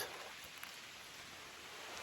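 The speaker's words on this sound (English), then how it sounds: "Rain's still picking up." Steady rain pours outdoors as a soft, even hiss with no pauses, faint and close by, with no talking over it.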